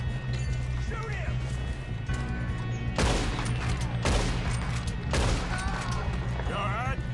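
Gunfire in the Red Dead Redemption 2 video game: several sharp shots crack amid a busy game soundscape, with voices talking throughout.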